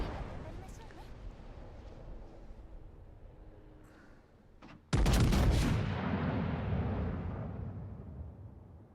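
Naval artillery firing in World of Warships: Legends from the battleship Ohio: a low rumble of battle builds, then a sudden, heavy salvo booms and rolls on loudly, with a voice speaking over the action.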